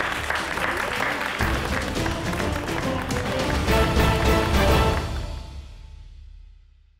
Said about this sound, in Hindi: ताली हो जानी चाहिए